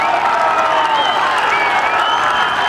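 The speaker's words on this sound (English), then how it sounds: "He's got the crowd going." A golf gallery at Royal Troon during the 152nd Open applauding and cheering, producing a dense, steady wash of clapping and voices that is loud throughout.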